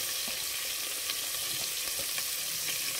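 Onion and green chilli fry in hot oil in a pan for chicken curry, a constant, even sizzle heard close up and alone, with faint ticks of spattering.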